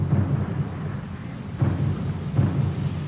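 A thunderstorm at sea in Pillars of Eternity 2: Deadfire, with a continuous low rumble of rain and wind and repeated deep thunder swells, loud and close, no voices.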